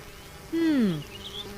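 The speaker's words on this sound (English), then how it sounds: "Mummy, look, there's a beehive outside." A single close bee buzz drones past near a beehive, with a falling pitch and brief loudness, then fades into a quieter hum.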